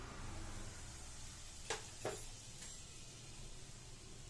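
Turmeric and chilli powder fry in oil over a low flame, giving a soft, steady sizzle throughout, with a couple of brief stirring clicks near the middle.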